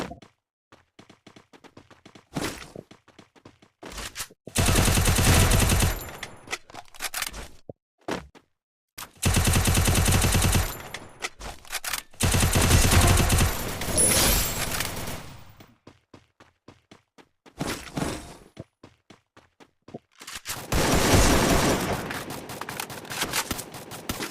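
Video-game gunfire comes in loud bursts of rapid automatic fire, several long volleys broken by gaps and scattered single shots, with no talking.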